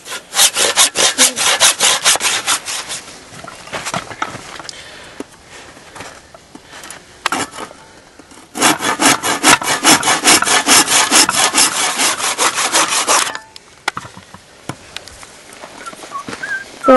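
A metal nail rubbed and sawn back and forth against a piece of wood, loud rasping strokes in two long bursts with a short sparse pause between, close up and with no talk.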